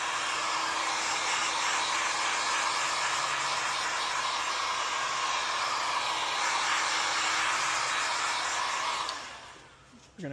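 A heat gun blows a steady, loud roar while warming tint film on a 2019-or-later Chevrolet Silverado taillight, holding constant for about nine seconds before cutting off near the end.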